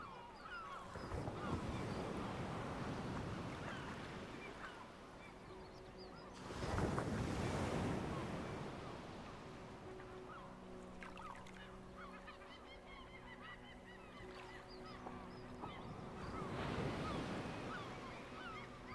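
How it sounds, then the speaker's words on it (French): Ocean waves roll onto the shore in broad surging swells that rise and fall, with seabird cries scattered throughout. "à écouter le bruit des vagues, le cri des mouettes"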